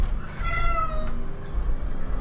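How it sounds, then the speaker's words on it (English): A house cat meows repeatedly in a quick run of high, wavering cries while it attacks a rug, heard close and fairly loud over a steady low background hum. "the cat is attacking the rug"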